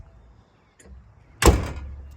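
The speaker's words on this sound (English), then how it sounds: "Trunk lid shuts excellent." The trunk lid of a black 1968 Shelby GT500KR 4-speed shuts with a single solid, close thump after a soft preceding rustle, then quiet.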